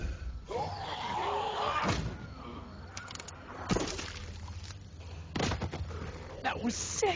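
A few loud gunshots in The Walking Dead video game, sharp slamming bangs separated by pauses, heard among talking voices.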